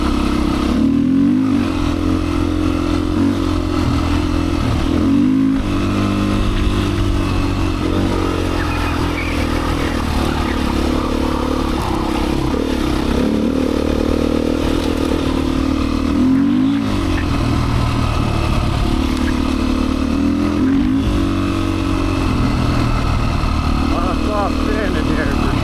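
A Beta 500 dirt bike engine runs continuously and loud up close, a steady droning throb with small rises and dips in pitch, close to the trail setting.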